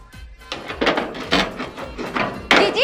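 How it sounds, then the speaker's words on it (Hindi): A room air conditioner knocks and rattles in a series of loud, irregular wooden-sounding thumps about every half second, close by, with faint voices in the room. "जीजी एसी में तो खटखट की आवाज कैसे आ रही है?"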